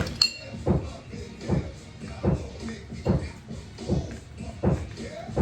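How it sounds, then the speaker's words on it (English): Repeated heavy thuds and knocks at a steady rhythm, roughly one every second, with faint clinks, like construction work nearby. "They're obviously doing some kind of construction."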